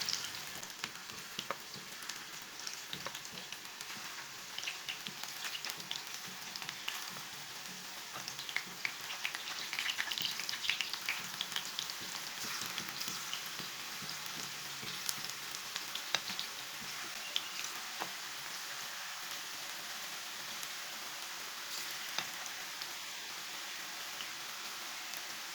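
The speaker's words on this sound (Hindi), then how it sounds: "इसे 2 मिनट तक फ्राई होने देंगे" Raw banana fries sizzle in hot oil with a faint, steady hiss and scattered tiny crackles, continuous and even throughout.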